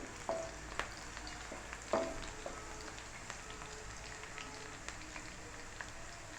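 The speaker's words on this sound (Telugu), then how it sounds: "ఇట్లాగా ఆయిల్లో చక్కగా ఉల్లిపాయలు ఇలా వేగనివ్వాలి." Sliced onions fry in hot oil in a pan for a fish dish, a steady, close crackling sizzle with occasional stirring clinks and scrapes, and no talk.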